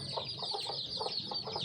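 A fifteen-day-old chick with an eye ailment that keeps its eyes shut peeps in quick, repeated high chirps, close and steady, with no voices.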